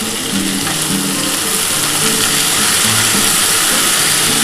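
Chopped onions frying in a pan for a spicy dry Bengali yardlong bean and potato curry give a steady, close, broadband sizzle, with a low intermittent hum running beneath it throughout.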